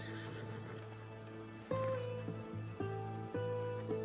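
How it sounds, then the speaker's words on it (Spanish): Horses in the Assassin's Creed video game neigh and whinny loudly over clip-clopping hooves, with repeated whinnies stacked over a steady galloping rhythm from chariot teams. "La más espectacular y esperada era la de cuadrigas, carros tirados por 4 caballos"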